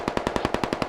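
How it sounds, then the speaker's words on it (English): A rapid burst of automatic gunfire aimed at a vehicle's wheels in the military shooter Squad, about ten evenly spaced shots in under a second, loud and close with nothing else heard. "Shooting the wheels of the vehicle to make sure it does not get to safety."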